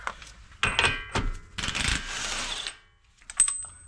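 A big impact wrench with a 32mm socket breaks loose the wheel hub nut on a Mazda CX-5, giving several short bursts of rattling hammering separated by brief pauses, close and fairly loud.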